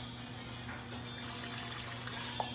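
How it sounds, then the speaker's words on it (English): Hot water poured into empanada dough in a home kitchen, a faint continuous trickling wash with a low background hum and no talking. "So now we're gonna use hot water."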